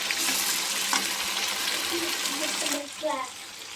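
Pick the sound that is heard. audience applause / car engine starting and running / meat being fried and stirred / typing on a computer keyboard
meat being fried and stirred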